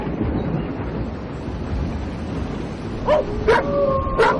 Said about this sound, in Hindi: रात होते ही भैं भैं करके रोने लगते हैं